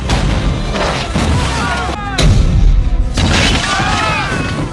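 Cannon fire pounds a fort during a film battle, with heavy booms and crashing impacts rolling one after another, loud and dense, with a brief break midway and a voice heard over part of it.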